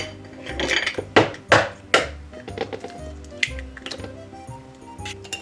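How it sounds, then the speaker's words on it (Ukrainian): Eggs are cracked into a stand mixer bowl, with a few sharp taps and knocks against the bowl's rim amid soft clinks and handling clatter, close and clear with no talk. "В чашу міксера вбиваємо яйця"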